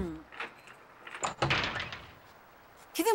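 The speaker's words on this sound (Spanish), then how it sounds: "¡Abre la puerta!" A door being opened after someone calls to be let in from the cold, heard as clunks and a rattling latch with some shuffling, then a brief sharper sound near the end.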